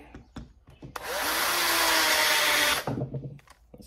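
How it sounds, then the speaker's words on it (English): A power drill runs steadily for about two seconds, close and loud, drilling through a rubber scupper plug, with clattering and handling noises before and after. "I'm going to drill a hole all the way through right here in the middle"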